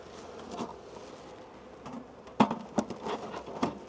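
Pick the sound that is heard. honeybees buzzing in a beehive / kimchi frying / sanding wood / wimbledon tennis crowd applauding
honeybees buzzing in a beehive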